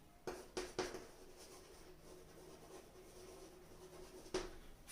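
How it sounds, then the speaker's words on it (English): Short, quiet strokes of writing on a board in a classroom, a few separate scratchy marks near the start and one more near the end, over faint room hiss. "I shall write it over here"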